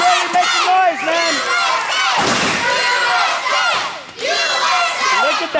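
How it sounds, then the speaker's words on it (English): A live independent wrestling crowd roars, shouts and cheers loudly throughout, dense chanting voices surging in waves with occasional thuds, close and continuous. "Listen to this crowd, man. This crowd is really making noise, man."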